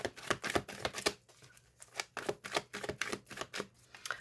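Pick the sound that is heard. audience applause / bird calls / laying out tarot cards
laying out tarot cards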